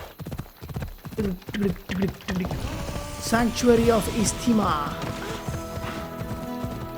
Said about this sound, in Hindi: घोड़ा घोड़ा घोड़ा।